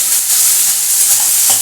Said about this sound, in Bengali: পেঁয়াজটা ভাজা করলাম, পেঁয়াজটা একটু ভালো করে ভাজবো।